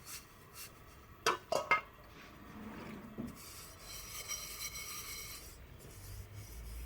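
Aluminium and steel pots and dishes being washed outdoors in a courtyard, with scrubbing and rubbing sounds and a few sharp metallic clinks, fairly quiet and close.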